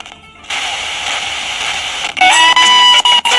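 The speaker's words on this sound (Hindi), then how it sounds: "ये है आकाशवाणी का पूर्णिया केंद्र।" An Akashvani Purnia station broadcast plays through a Noizzy Box Retro Buddy radio, a loud, thin, hissy tuning sound giving way to tonal, beeping signal bursts with brief dropouts.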